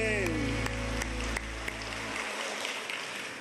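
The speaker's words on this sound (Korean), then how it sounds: "내 하나님께 영광의 박수 올려드리겠습니다" A church congregation breaks into applause as sustained music with a deep bass fades away, the clapping swelling into a broad, steady crowd patter by the end.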